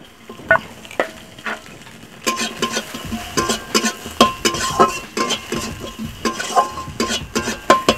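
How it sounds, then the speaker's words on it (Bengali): Chopped onions frying in leftover hilsa fish oil in an iron kadai, a steady near sizzle broken by repeated scrapes and clinks of a spatula stirring against the pan. "এখন পেঁয়াজটাকে ভালো করে ভেজে নিই"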